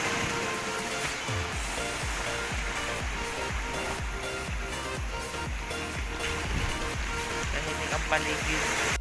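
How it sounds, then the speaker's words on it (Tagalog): Strong sea waves churned up by Typhoon Egay at a beach resort in Subic wash in repeatedly, with a steady roar of surf, wind and rain and rhythmic low thumps from the water. "Lakas ang alon."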